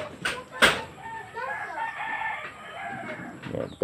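Farmyard chickens cluck while a rooster crows nearby, a clear drawn-out crow following two sharp knocks, with softer clucking continuing after it.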